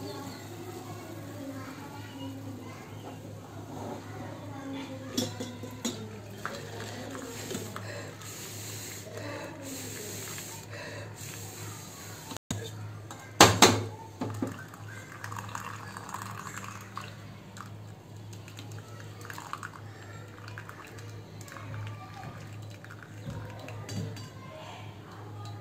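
Pots and utensils clink and clatter as boiled herbal fever medicine is strained in a home kitchen, scattered faint knocks with a louder burst of clanging midway, alongside quiet talk.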